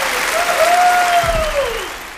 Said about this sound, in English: Let's give a nice round of applause to my conscience.